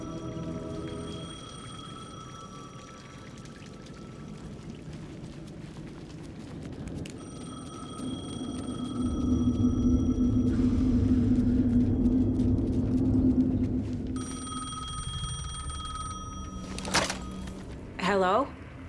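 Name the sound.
payphone ringing in the video game Alan Wake 2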